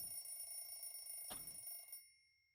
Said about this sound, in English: I realized that the ring was my alarm clock